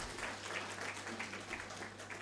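Audience clapping at a police accountability report launch in Kenya, a steady, moderately distant patter of many hands over a low hum, continuing evenly throughout.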